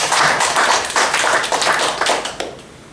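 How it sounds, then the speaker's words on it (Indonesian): An audience at a character-building workshop claps together in a dense, steady burst of applause lasting a few seconds before tapering off. "Tepuk tangan dulu buat kita semua."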